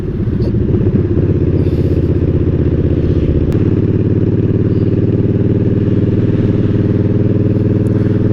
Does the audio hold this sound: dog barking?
no